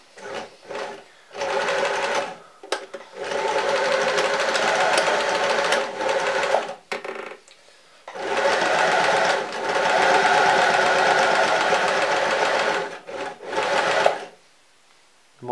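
A home sewing machine runs a simple lockstitch at normal thread tension through layered fabric for a hand puppet, in loud whirring bursts with several short pauses between runs of stitching.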